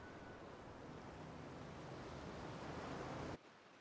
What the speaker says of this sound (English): Intense water sounds.